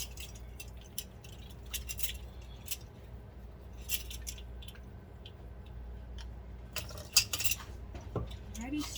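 A utensil stirs vanilla extract into cake batter for strawberry shortcake bars, giving soft scattered clinks and taps against the bowl, quiet and close, with a louder clatter near the end.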